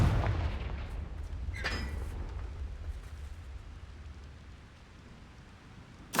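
A Confringo spell explodes in the Hogwarts Legacy video game, opening with a sharp burst and a second crack, then trailing into a long rumbling roar that slowly fades, with no voices over it.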